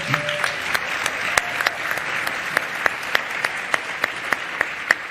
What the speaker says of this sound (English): Let's give them a big round of applause